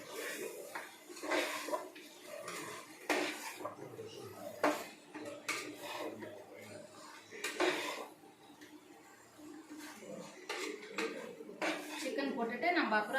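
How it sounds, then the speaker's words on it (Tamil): Chicken sautéing in a pot for chicken biryani, heard mostly as repeated clanks and scrapes of a metal spoon against the pot, with a faint sizzle underneath and a voice talking between the knocks. "வதங்கிட்டு இருக்கு சிக்கனு"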